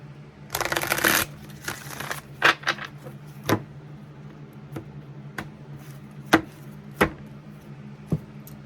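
Tarot cards are shuffled in a brisk riffling burst, followed by a series of sharp, separate taps and slaps of cards set down on a surface.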